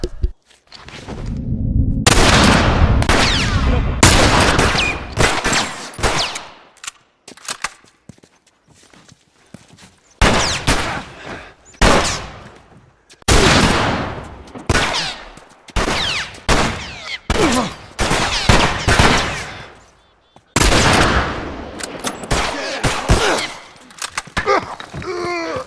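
Rifle shots from The Last of Us game ring out in loud, sharp bursts, clustered volleys separated by brief pauses, dense and close throughout.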